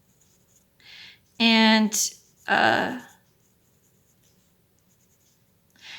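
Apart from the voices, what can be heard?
pencil drawing and shading shadows on paper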